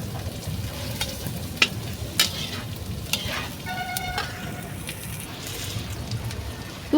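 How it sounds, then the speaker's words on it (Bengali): Two kilos of onions frying until brown in a large pot over a clay stove outdoors, a steady close sizzle with occasional stirring clinks, while distant vehicle horns sound briefly in the background. "এবার ব্রাউন করে ভেজে নিচ্ছি।"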